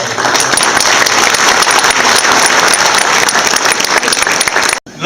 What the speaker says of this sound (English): These people need a round of applause.